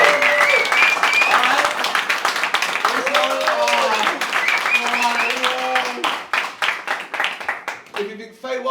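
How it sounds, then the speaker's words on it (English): Comedy club audience at Roast Battle Berlin applauding and cheering to vote for Jules Oakes, loud clapping mixed with whoops and shouting voices, thinning into scattered claps near the end. "give us a round of applause, ladies and gentlemen"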